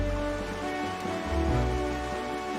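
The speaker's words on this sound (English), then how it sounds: "And now there's rain at inconvenient times here." Rain in Zelda: The Wind Waker falls as a soft, steady patter layered under sustained musical tones, continuous and fairly faint across the short stretch.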